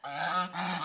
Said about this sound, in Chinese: 它也会叫的，也会鹅鹅的叫